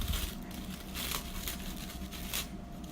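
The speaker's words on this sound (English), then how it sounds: "Took it out of the plastic bag." Soft plastic crinkling and rustling in short bursts, fairly close, with brief handling noises and no talking, as hot chicken mandi is taken out of a plastic bag.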